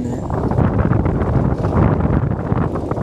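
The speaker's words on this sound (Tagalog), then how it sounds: "masarap yung weather ngayon actually, mahangin." Strong wind at Rastaura Beach in Saudi Arabia blasting across the microphone, a steady loud roaring rumble with gusty buffeting throughout and no voices heard.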